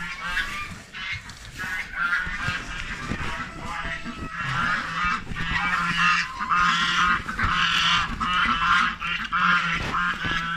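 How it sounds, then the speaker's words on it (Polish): Loud, continuous honking and squawking from a crowd of fighting geese and ducks, harsh overlapping calls with flurries of agitated noise close by. "Gęsi się tłuką, kaczki się tłuką."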